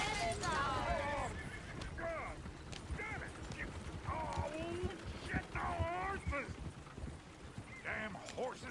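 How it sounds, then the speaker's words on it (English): Horses in the video game Red Dead Redemption 2 whinny and squeal repeatedly over trotting hooves, close and fairly loud, with voices talking alongside. "Damn horses!"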